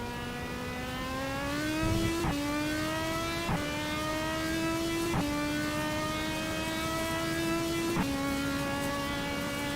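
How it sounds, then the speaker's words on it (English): A Vanguard race car engine at Sebring, heard onboard in a Le Mans Series race, drones loud and steady with rising pitch through each gear, cut by several quick upshift breaks. "it's a fantastic engine sound as well. This Vanguard engine, or the Patterson engine"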